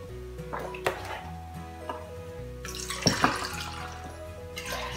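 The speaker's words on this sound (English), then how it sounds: "What you want to do is add 3 cups of water." Three cups of water are poured into the stainless inner pot of an Instant Pot Duo Plus 9-in-1, a steady splashing stream over a low background hum, close and fairly loud.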